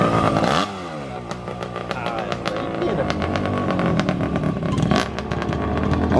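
Motorcycle passing nearby, its engine rising and falling in pitch as it sweeps past, followed by further revving and clattering motor sounds.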